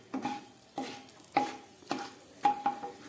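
Bay leaves, cinnamon, cardamom, cloves and garam masala frying in hot oil in a pan, with a spoon striking and scraping the metal about every half second over a low crackling sizzle.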